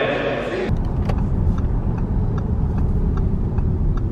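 Dallara race car on a racetrack near the factory, heard as a continuous loud engine roar with broadband rumble throughout, preceded by a brief burst of other noise in the first moment.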